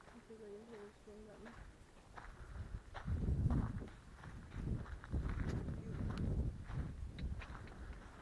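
A horse walks close by along a path, its hoof steps coming in an irregular, moderately loud series over rustling ground while people talk throughout.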